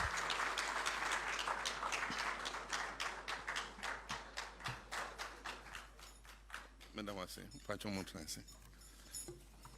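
Clapping for the President of Ghana at a formal state courtesy visit. The applause begins full and dense, then thins into scattered claps that fade under a steady hum.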